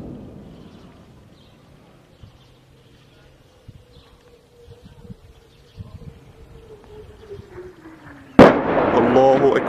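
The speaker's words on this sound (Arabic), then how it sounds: "قصف بالمدفعية الثقيلة." Heavy artillery shelling on the village of Marj Khokha near Salma in Latakia's countryside: a long fading whine gives way to a sudden loud blast near the end, followed by sustained rumbling noise.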